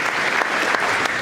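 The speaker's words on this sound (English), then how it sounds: "So let's give a warm hand applause to our students." An audience at a high school graduation ceremony applauds the graduating students, a brief burst of steady, dense clapping from a large crowd.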